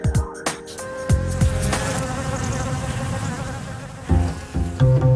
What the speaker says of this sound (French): L'abeille provençale aime butiner patiemment les champs de lavande pour élaborer le plus pur des miels.